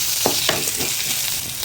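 Green chillies and onions sizzle in a hot pan for an egg curry with radish, a bright, crackling fry with a few quick stirring scrapes, close and steady with no talking.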